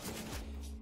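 Gunfire in a shooter video game, a brief burst of shots with a low rumbling tail, moderately loud and short, with no speech.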